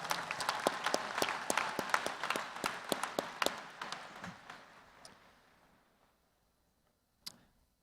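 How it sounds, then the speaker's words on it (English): Audience applause at a university spring commencement ceremony, a sustained round of sharp claps that fades out over about five seconds, followed by a brief silence and one last isolated clap. "Please join me in a round of applause for them as well for their service."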